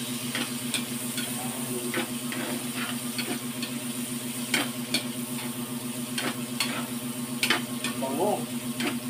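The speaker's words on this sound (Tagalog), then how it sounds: "Yun guys, prito muna guys." Vegetables such as carrots and bell pepper fry in hot oil for escabeche, a continuous close sizzle broken by scattered clicks and scrapes of stirring, with no talk over it.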